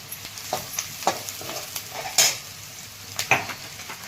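Peeled garlic frying in a pan for a horse gram dish, with a soft sizzle punctuated by sharp crackles and pops as the cloves hit the hot oil.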